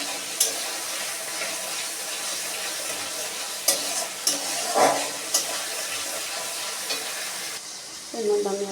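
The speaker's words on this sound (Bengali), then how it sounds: "যতক্ষণ না টমেটোর কালারটা চেঞ্জ হচ্ছে ততক্ষণ আমি একটু কষিয়ে নেব।" Tomato and paneer masala sautéing in a pan, with a soft continuous sizzle and occasional sharp scrapes and taps of a spatula, close by and without talk.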